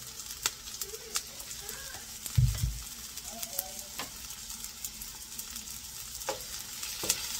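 Onions frying in butter in a pan for Kapampangan pork asado, a soft steady sizzle punctuated by light taps and scrapes of stirring, with one brief thump partway through.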